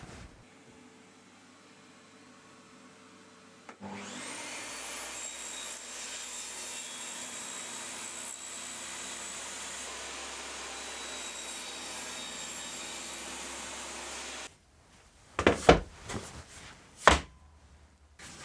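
A table saw makes a wooden cross-cut with a mitre gauge. The blade spins up into a steady, loud whine that holds for about ten seconds and then cuts off. Several sharp knocks and clatters of wood being handled follow.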